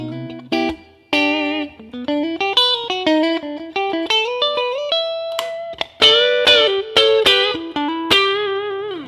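An electric guitar, a '72 Thinline, through a modded Tube Screamer overdrive into a Bassman amp with plate reverb plays a melodic run of single notes and chords, with a gritty, slightly distorted tone.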